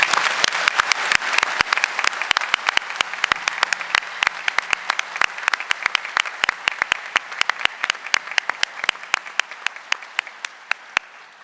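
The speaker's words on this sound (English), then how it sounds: "So I hope the audience will join me in giving them all a round of applause." Audience at a summit applauding: dense, sustained clapping from a large crowd that holds steady and then slowly thins and fades over about eleven seconds, with no voices over it.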